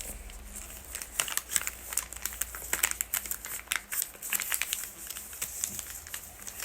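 Paper being creased and folded into a paper airplane, with irregular close crinkles, snaps and rustles coming in quick uneven bursts, and no voices over them.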